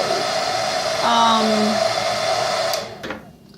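A handheld blow dryer runs on its low setting, giving a steady whirring hum with a brief tonal whine partway through before it cuts off near the end, with a voice speaking over it.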